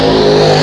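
A race car at Hattiesburg Speedway howls loud and close in a steady, sustained engine roar at high revs, with no talk over it.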